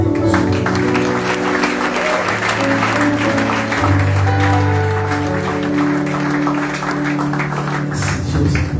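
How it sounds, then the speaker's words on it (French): A church seminar audience applauds and cheers to welcome a pastor, with dense sustained clapping under loud music or singing throughout. "Nous le recevons avec des acclamations."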